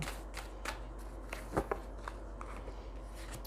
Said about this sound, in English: One more shuffle, Spirit. I'll pull from the top.